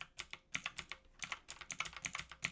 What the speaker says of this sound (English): I'm typing Control Z and then a sequence.